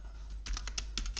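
Computer keys are pressed in Microsoft Word, a handful of quick, light clicks up close ending with a keystroke for Enter.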